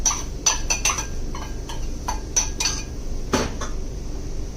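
Metal utensil clinking and scraping against a pot while garlic and chicken are mixed for a no-oil Nagaland-style chicken curry, a series of sharp irregular taps close by, with no talking.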